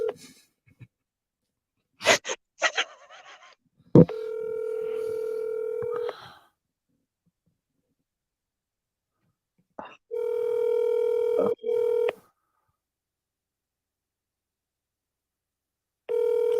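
Telephone call placed from a phone: a quick burst of keypad dialing tones, then three long, steady ring tones with pauses between them, the last cut off, heard clearly with no talking.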